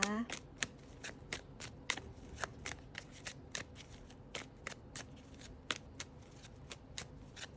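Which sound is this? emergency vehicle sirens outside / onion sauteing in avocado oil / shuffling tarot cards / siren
shuffling tarot cards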